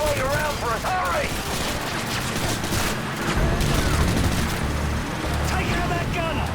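Sustained machine gun fire and explosions in the video game Call of Duty: MW2, a dense, loud barrage of rapid shots and booms running continuously, with shouted dialogue briefly heard over the top.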